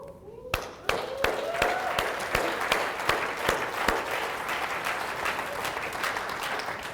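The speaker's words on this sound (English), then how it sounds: "Now give yourselves a round of applause." An audience gives sustained applause at a personal development seminar, a dense, even wash of many hands clapping that fills the whole stretch.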